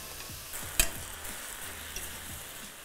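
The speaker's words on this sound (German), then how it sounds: "Das lassen wir jetzt noch so ein bisschen einschmoren." Leaf spinach sizzles and stews in a pan seasoned with nutmeg, giving a steady soft crackle with a few light clicks and one sharp tap from stirring. The sound is quiet and close, with no talking.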